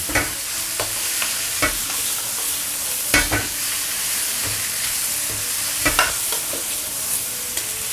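Garlic sprout leaves stir-fried with cured pork in a wok give off a steady loud sizzle, broken by sharp scraping and clanking spatula strokes at irregular intervals.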